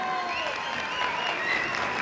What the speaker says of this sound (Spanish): por el cual pido un fuerte aplauso